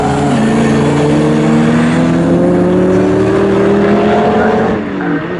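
A BMW saloon race car passes at speed on the Snetterton circuit, its loud engine note holding steady harmonics that rise gradually before fading near the end of the pass, running alone and close.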